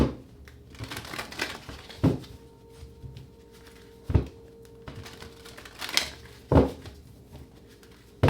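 Tarot cards are shuffled by hand in a series of soft papery riffles and sharp taps, several distinct thumps spaced irregularly amid quieter crinkling, close and alone without talk.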